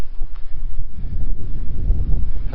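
Wind at an overcast coastal cove rushes and buffets loudly across the microphone in uneven gusts, a deep rumbling roar with no speech.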